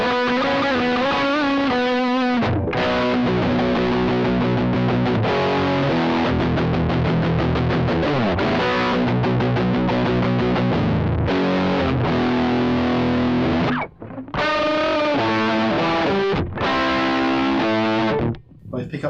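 Harley Benton HB-35 semi-hollow electric guitar played through heavy distortion, loud chugging riffs and sustained chords with brief pauses between phrases, no talking.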